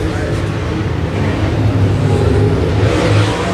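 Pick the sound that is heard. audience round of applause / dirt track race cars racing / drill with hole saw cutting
dirt track race cars racing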